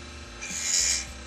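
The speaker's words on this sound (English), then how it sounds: "Switching to the barrel burr on the 280 grit." A barrel burr at 280 grit grinding an opal stone, a brief high whining rasp that swells and fades over about half a second, close and moderately loud.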